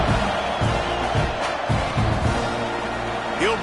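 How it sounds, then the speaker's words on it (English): A football stadium crowd in a video game keeps up a loud, continuous buzzing roar throughout, a dense wash of cheering and murmuring with a few louder swells. "this crowd is buzzing after that last score"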